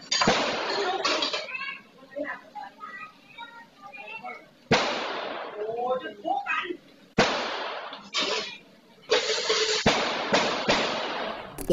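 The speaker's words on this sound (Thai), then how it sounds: "วันดีคืนดีเนี่ยเอาปืนมายิงขู่ด้วย" Warning gunshots caught on CCTV outside a grilled-pork restaurant: several sharp, loud bangs crack out at irregular intervals, mixed with people talking over them.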